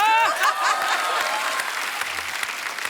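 A TV comedy studio audience on a Christmas special breaks into applause, which comes in loud and dense at first and then settles into steady, even clapping that carries on for the full few seconds.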